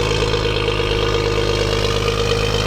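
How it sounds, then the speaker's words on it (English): A BMW 135i with an N55 engine and catless downpipes idles loudly and steadily, a close, continuous low rumble with no change in revs and no voices over it. "Dude, your car is loud."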